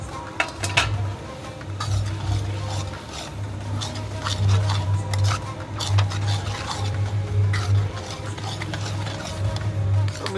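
A spoon stirs and scrapes a green turmeric curry around a pan, giving repeated clinks and rubbing scrapes over a low continuous sizzle, close and fairly loud, with no voices.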